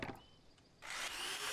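Chainsaw in the Bunker Builder Simulator game kicks in partway through, a loud buzzing rasp cutting planks after a quiet stretch of faint tool noises.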